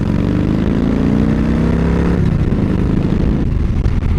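A 2003 Harley-Davidson Fat Boy 100th Anniversary Edition motorcycle accelerates, its loud engine note rising steadily in pitch, then dropping and shifting near the end, close and alone without talk.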